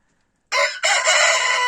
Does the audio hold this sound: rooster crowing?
yes